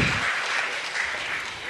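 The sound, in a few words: applause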